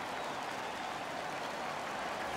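The virtual arena crowd at an NHL 15 hockey game roars and applauds in a steady, dense wash of cheering, fairly faint and continuous, with no commentary over it.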